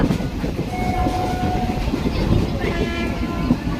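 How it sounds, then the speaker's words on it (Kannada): A passenger train pulls away, its carriages rumbling and clattering steadily at close range while a horn tone sounds. People talk over the running noise. "ಟ್ರೈನ್ ಹತ್ತಿ ಇವಾಗ ಹೊರಟಿದೆ ಟ್ರೈನ್."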